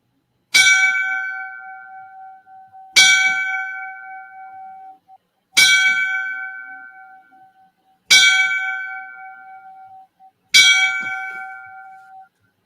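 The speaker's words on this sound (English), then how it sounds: "Let's give the 5 bells for the 2 guys that we lost in Newark." Five separate strikes of a fire department bell ring out in a memorial for two fallen firefighters, each a bright clang with a sustained ringing tone that decays over about two seconds before the next, evenly spaced and alone.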